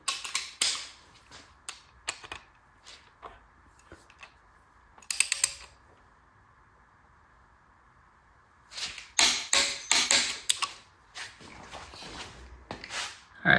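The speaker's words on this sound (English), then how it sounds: "Got our torque wrench set at 70 pound-feet. Since it's a 7/16 bolt and a steel cam," A torque wrench set to 70 pound-feet tightens a 7/16 bolt on a billet steel solid flat tappet camshaft, giving bursts of close, dry ratcheting clicks separated by quiet pauses, with a longer, denser run of clicks near the end.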